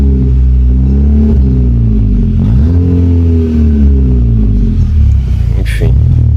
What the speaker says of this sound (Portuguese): a gente já tem um barulho no escapamento esportivo aí